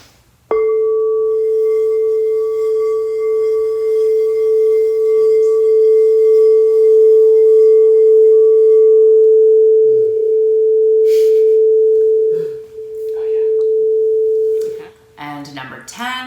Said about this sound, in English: The note that you'll actually use is A.